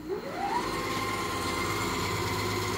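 A 900-watt, 1.2-horsepower motor on an upgraded budget lathe spins up with a rising whine, then settles into a steady, close, even hum with no talk over it.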